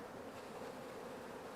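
Honeybees swarm around a hive's entrance ramp, their steady low drone continuous and fairly faint, with no voices over it.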